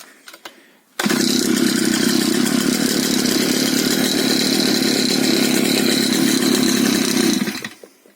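A petrol brush cutter with a newly fitted ignition wire starts after about a second, then runs loud and steady close by with a buzzing two-stroke drone before shutting down near the end.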